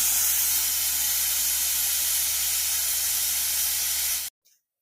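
A pressure cooker cooking dal lets out a loud, steady whistle-hiss of escaping steam for about four seconds, then cuts off abruptly, leaving near silence.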